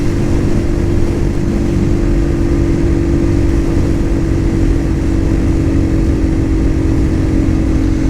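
A Cougar Vitacci XMT 250 motorcycle engine lugs along at low revs on a test ride, a steady loud drone with a constant hum and rumble running unbroken throughout, no voices.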